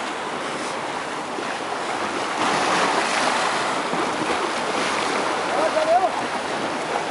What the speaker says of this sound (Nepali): छाल गतिलो आइरहेछ।